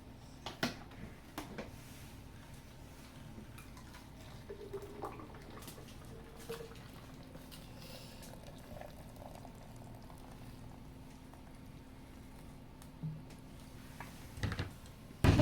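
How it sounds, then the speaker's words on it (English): A blended nutritional smoothie is poured into a glass with soft, thick gurgling and trickling, faint and steady, broken by a few small clinks. "So now we're going to pour it in there and then we're going to taste."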